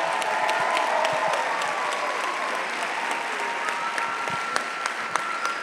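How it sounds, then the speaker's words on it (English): Steady audience applause for honorees at a church's 60th anniversary celebration, a crowd clapping evenly throughout with a few sharper individual claps standing out. "Let's give them a, a round of applause for appreciation."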